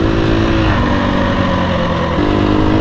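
A KTM 250 EXC-F dirt bike pulls in third gear, its single-cylinder engine droning steadily and loudly up close, with a slight shift in pitch near the end.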